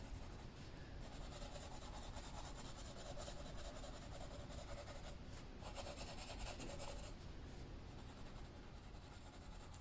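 A colored pencil blends and burnishes on paper in a steady, faint scratchy rubbing that goes on without a break, with slightly firmer strokes now and then and no talking.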